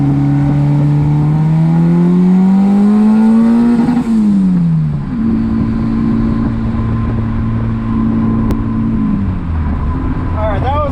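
Turbocharged D16 engine in a Suzuki Vitara pulling hard in second gear, a loud close rising engine drone climbing steadily, dipping briefly, then holding a steady tone with faint turbo whistle near the end.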